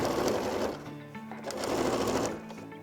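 A sewing machine topstitching a toiletry bag near its zipper, a loud close whirring buzz in two long bursts with a brief slowdown between them.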